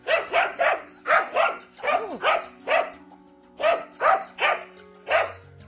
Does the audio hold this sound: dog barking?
yes